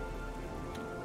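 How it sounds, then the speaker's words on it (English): Rain in the video game The Elder Scrolls IV: Oblivion, a steady, dense hiss of falling rain that holds an even level throughout, with no voices. "It's just raining."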